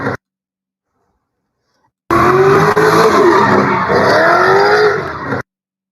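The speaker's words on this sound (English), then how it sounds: "And a car street takeover in Lakewood." Cars at a late-night street takeover in Lakewood: a loud, sustained screech of skidding tires with revving engines, running continuously for over three seconds and then cut off sharply.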